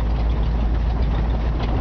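A 1965 Mustang Fastback A-code on a gravel road, its engine giving a steady low drone throughout at close range.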